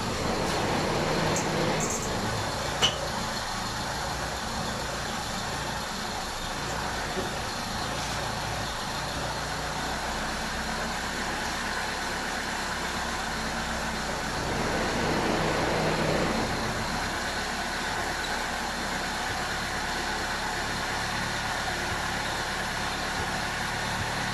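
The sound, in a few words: car engine idling while adjusting idle mixture screw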